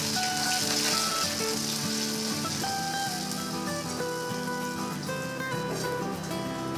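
Whole spices and ginger paste sizzling in hot mustard oil in a kadai, a continuous bright crackling hiss with no talk over it.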